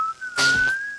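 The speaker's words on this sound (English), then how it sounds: "Whistles." A cartoon character gives a single short, clear whistle, a rising tone heard close and alone.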